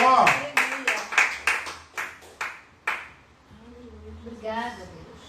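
A church congregation clapping in a run of about nine sharp, separate claps slowing toward the end, followed by a voice speaking.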